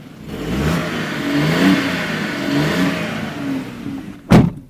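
A 2018 Skoda Rapid engine hums and rises under acceleration while driving, heard from inside the car as a steady mid-pitched drone swelling and easing, ending with a brief sharp knock.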